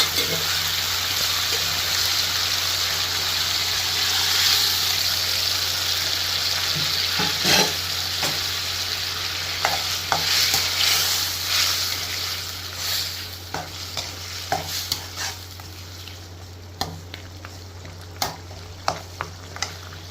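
Onion and mutton masala fries in a pan with a steady sizzle, while a spoon scrapes and stirs with repeated clacks that grow sharper toward the end under a constant low hum.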